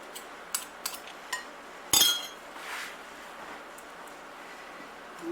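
A fork clinks and scrapes against a bowl while stirring blondie batter, a few sharp taps followed by a louder clatter and soft scraping, close and otherwise quiet.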